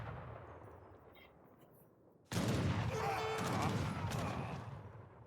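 Rapid unit gunfire in a strategy video game breaks out suddenly after a quiet stretch, a loud dense crackle of volleys that holds steady and then slowly fades.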